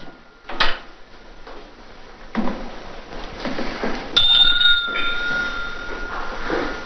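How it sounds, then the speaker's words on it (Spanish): A small hand bell is rung in a household to summon a servant, bright ringing tones standing out over a muffled room with a door-like knock earlier. "Usted, señor, con la campanilla."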